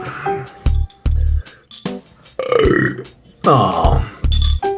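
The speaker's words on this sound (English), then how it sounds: "that wasn't as good a burp as I thought it was gonna be" A person burps loudly and close to the mic after drinking something in one go, followed by several more short, abrupt bursts of sound, with no speech.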